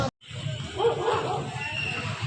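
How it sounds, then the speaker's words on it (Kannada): Dogs on a college campus give a few short, yelping barks and whimpers at a moderate distance while people talk nearby. "ನಮ್ಮ ಕಾಲೇಜಲ್ಲಿ ನಾಯಿ ಕೂಡ ಸಾಕಿದ್ದಾರೆ"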